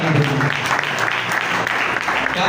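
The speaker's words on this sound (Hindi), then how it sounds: "आज खुदा के जलाल के लिए जोरदार तालियां बजाएं।" A church congregation at a Sunday Holy Communion service claps loudly and continuously, a dense steady burst of applause filling the room throughout.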